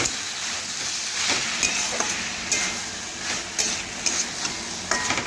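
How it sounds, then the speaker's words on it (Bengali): Pumpkin frying with mixed vegetables in a pan, a constant hiss of sizzling oil with a spatula scraping and tapping at irregular intervals, close by, with no voices. "কুমড়োও কিন্তু সবজির সাথে ভালোভাবে ভেজে নিয়েছি এ দেখুন নাড়াচাড়া করে"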